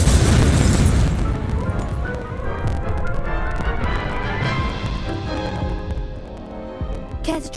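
A fire spell blast in the video game Hogwarts Legacy: a loud, heavy booming burst up front that rolls into a long, crackling roar, thinning out toward the end with a faint rumble.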